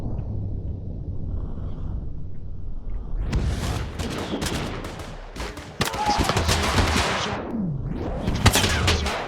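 Video game combat with explosions and gunfire: a low murmur gives way to dense, loud volleys of rapid shots and booms that keep going to the end, with a brief pause midway.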